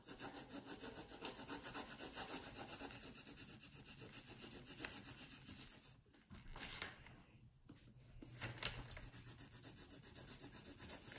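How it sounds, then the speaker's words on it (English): Colored pencil, indanthrone blue, scratching rapidly back and forth on paper in close, quiet, rhythmic strokes, with a brief pause partway through before the scribbling resumes. "And now I'm just gonna color it in."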